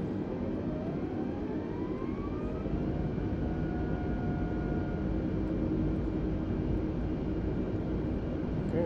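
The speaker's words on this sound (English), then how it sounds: "Now let's increase the throttle." Airbus A320 jet engines in Flight Simulator 2020 spool up steadily, a loud continuous roar with slowly rising whine tones that climb over several seconds.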